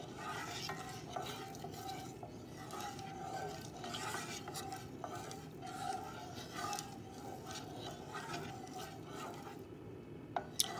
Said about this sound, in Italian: bisogna mescolare finché non è sciolto il sale